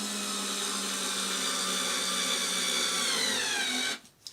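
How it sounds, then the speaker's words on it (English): A small Black & Decker power driver whirs loudly and steadily for about four seconds, its pitch shifting slightly as it drives a screw into wood, then cuts off abruptly. "I use a little Black & Decker driver, which I use all the time"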